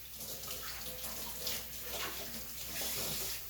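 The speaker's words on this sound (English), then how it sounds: "So let me wash that off my hands," Running tap water splashes steadily and faintly over hands being washed at a sink in a home kitchen during bread baking, a soft continuous gush with small fluctuations and no talking.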